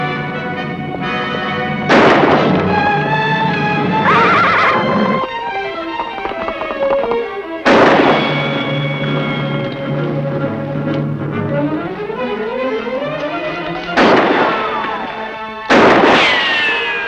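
Loud gunshots sound in a western radio drama, four or so sharp cracks each trailed by a long whining ricochet that slides in pitch and rings out before the next shot.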